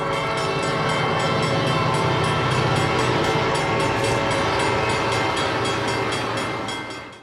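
Southern Pacific-lettered SD45T-2 diesel locomotive 9389 rolls east through Arbuckle on the West Valley Line at the head of an Officer Special, a loud, steady engine roar with horn tones and train rumble held close throughout.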